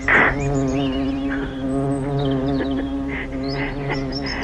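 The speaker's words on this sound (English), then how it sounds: "They say that bumblebees shouldn't be able to fly, the scientists. But there it is, collecting pollen." A bumblebee gathering pollen at fuchsia flowers buzzes up close, a sustained droning hum that wavers slightly in pitch as it moves, with no voices over it.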